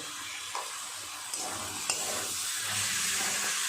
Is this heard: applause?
no